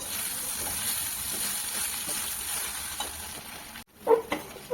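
Poha with coriander is stirred in a frying pan, a quiet steady sizzle and hiss with light scraping, ending in a few louder clanks.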